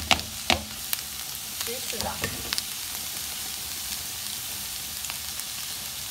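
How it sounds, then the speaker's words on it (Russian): Mushrooms and onion sizzle in a frying pan as they are stirred, with a few sharp clacks of a utensil and a brief spoken remark. "Перемешиваем и жарим"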